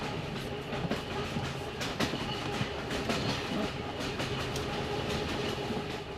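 A train runs steadily throughout, with a continuous rumble and rhythmic clickety-clack of wheels over rail joints, moderately loud and close, no voices.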